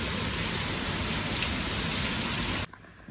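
Heavy monsoon-style downpour pours steadily as a dense, continuous hiss, loud and close, then cuts off abruptly near the end, leaving near silence.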